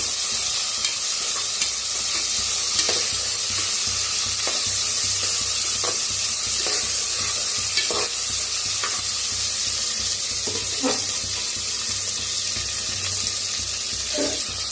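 Curry leaves and spices roasting in a pan for masale bhat, a constant bright sizzle with a spatula scraping and tapping the pan at irregular intervals throughout.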